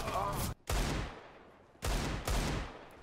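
Bursts of rapid gunfire from a video game played with an Xbox controller, two loud volleys with a short gap, close and harsh, with a voice briefly mixed in at the start.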